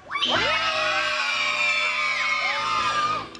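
Music-festival concert crowd with many children yelling, whooping and screaming loudly in a continuous roar, with a brief dip partway through, then fading at the end.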